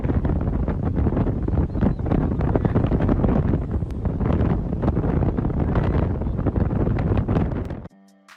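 Strong wind at a kitesurfing spot blasts loudly and continuously against the microphone in a dense, rumbling roar, cutting off abruptly near the end.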